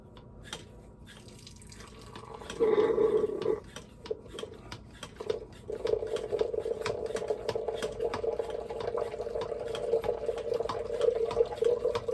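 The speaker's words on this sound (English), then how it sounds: "we will pump some fluid and see if we can get the blue cleaning fluid to come through and come out the faucet" A hand pump pushing blue cleaning fluid through a beer line and out the faucet, with a gurgling surge, then a steady bubbling hiss and rapid ticking clicks throughout.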